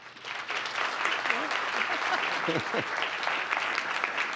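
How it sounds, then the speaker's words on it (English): Steady applause from a crowd at a town council meeting fills the whole stretch, dense clapping with a brief voice rising through it midway. "Please give them a round of applause."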